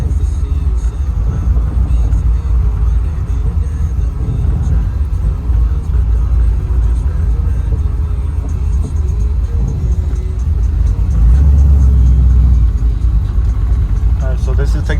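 A 1979 Camaro Z28 engine runs at a steady, loud, low rumble while the automatic transmission shifts through its gears, and the engine note swells briefly near the end.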